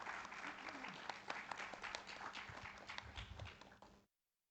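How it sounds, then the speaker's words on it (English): A conference audience at a national climate governance summit in Malaysia claps for Dato Henry Barlow, a dense, steady round of applause lasting about four seconds before cutting off abruptly. "Can we please give him a round of applause?"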